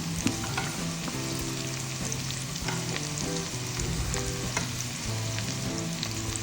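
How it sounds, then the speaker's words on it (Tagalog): A fried egg sizzles in a pan of sautéed onions, garlic, ginger and cardamom seeds, a constant close crackling fry with stirring scrapes throughout, no voices. "After igisa mga sibuyas, bawang, luya, cardamom seeds, lagyan na natin ng ating fried egg."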